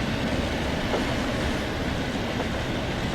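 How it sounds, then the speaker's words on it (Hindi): A WAP4 electric locomotive hauls a train in the Indian Train Simulator game, giving a continuous low rumble with faint rail clatter, steady and moderately close, with no talk over it. "ओ सिलीगुड़ी का WTP4 बाज लोकोमोटिव आनंद विहार की ओर बढ़ता हुआ।"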